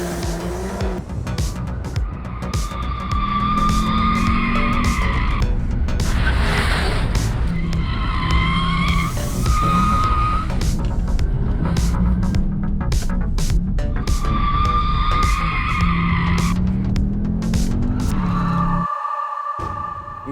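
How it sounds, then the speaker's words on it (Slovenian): Cupra Formentor launching hard from a standstill with launch control held near 4000 rpm, engine roaring loudly alongside repeated long tire squeals and skidding that sweep up and down, close and continuous for about twenty seconds. "Launch control 4000 RPM and"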